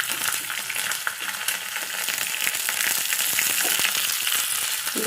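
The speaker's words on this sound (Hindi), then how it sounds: "लसुन खंडे छेद करी पकाइली" Garlic pieces frying in oil for dahi baigan give off a continuous loud sizzle with crackling pops and occasional stirring scrapes, steady throughout with no voices.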